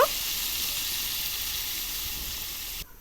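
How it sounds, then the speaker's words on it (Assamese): Potato, jackfruit and spices frying in hot oil for a jackfruit curry, giving a loud, even, close sizzle that holds steady and then cuts off abruptly near the end. "তেলত আলু তাৰ পিছত কঁঠাল আৰু মছলাবোৰ ভাজি ল'ব লাগিব"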